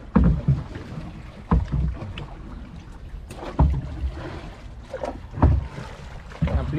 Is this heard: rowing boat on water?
yes